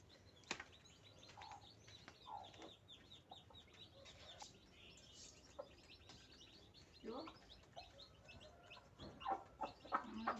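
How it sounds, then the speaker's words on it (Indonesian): Free-range village chickens feeding on scattered corn and rice outdoors, with soft clucks and chirps from several birds and light pecking and scratching around them. "lucu-lucu ayamnya lagi makan"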